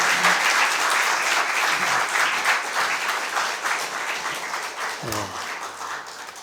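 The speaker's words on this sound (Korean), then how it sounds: "우리 정수관 목사님 나오실 때 우리 큰 박수로 맞이해 주시기 바랍니다" A church congregation applauds to welcome a pastor to the front, a dense, steady wash of clapping from many hands that fills the hall and tapers slightly near the end.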